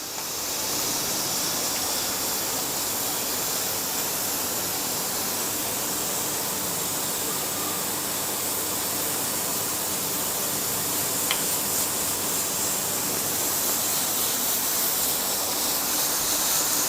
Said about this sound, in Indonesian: uap juga udah mulai keluar dari atas itu ya, mulai mendesis juga ya